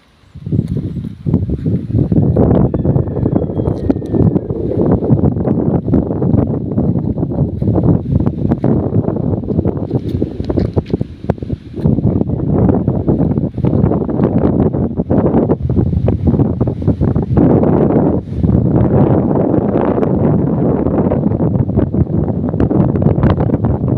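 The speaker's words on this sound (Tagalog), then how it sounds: "hangin." Strong wind buffets a microphone outdoors, producing a loud, continuous low roar with rustling that swells and eases but never stops, with one brief lull in the middle and no clear voices.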